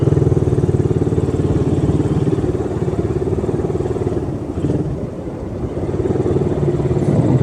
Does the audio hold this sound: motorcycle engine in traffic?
yes